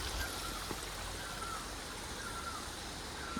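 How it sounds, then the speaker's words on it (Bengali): A small stream of water flows down through a Kurseong forest after heavy rain, a faint, steady trickle and wash heard from nearby with no talking. "এখন ছোট্ট একটু জলের ধারা বয়ে আসছে উপর থেকে।"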